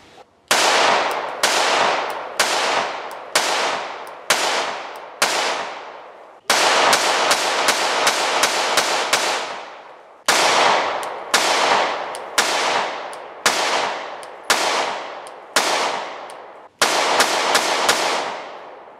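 Shadow Systems CR920P compensated 9mm pistol fired in a steady string of sharp, loud shots at close range, each crack followed by a short decay, with two brief pauses between groups.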